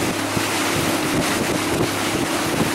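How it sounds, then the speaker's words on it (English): A big boat motor idles on open water during carp fishing, giving a steady low drone under constant wind rush and faint water noise, with no talking. "My big motor is idle speed, and I can't really keep up with it."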